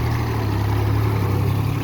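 A mini tractor engine runs steadily in a castor field, a continuous low droning hum with a strong low-pitched tone and no breaks, fairly close and alone.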